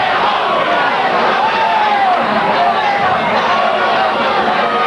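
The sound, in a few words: fight fans cheering wildly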